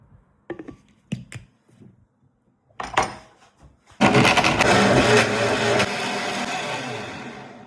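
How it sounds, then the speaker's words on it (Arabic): Electric mixer grinding spices and butter with pistachio and basil, a loud steady whirring drone starting abruptly after a few clicks and handling knocks, running continuously and dropping slightly in level toward the end. "والحين على المكسر يا معلم"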